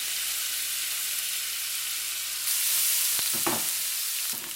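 Garlic and green onion hitting hot oil in a pan for a pork and celery stir-fry, a steady hiss of sizzling that swells louder midway, with a few scraping stirs near the end.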